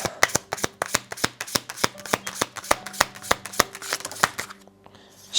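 Tarot or oracle cards are shuffled in quick, crisp riffles, a run of sharp rhythmic snaps up close that stops near the end.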